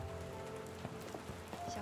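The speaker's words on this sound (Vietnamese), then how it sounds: "Phù Giao, trời mưa rồi, chúng ta đi thôi nào." Rain falls steadily and fairly softly, its drops pattering on a surface in quick irregular taps over a faint tonal background.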